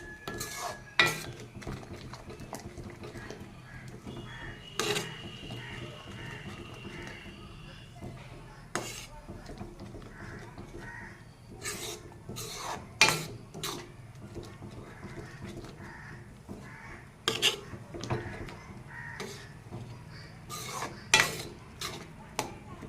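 A ladle scrapes and knocks against a cooking pot while stirring boiled, mushy lentil dal, giving faint, irregular metallic clinks and taps across the stretch with soft background kitchen noise.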